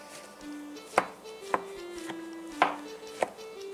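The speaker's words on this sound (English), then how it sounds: "I first finely chopped the mushrooms, including the ones I rehydrated." Mushrooms, including rehydrated ones, being finely chopped with a knife on a board for an 18th-century mushroom ketchup, several sharp, separate chops spaced irregularly against a quiet background.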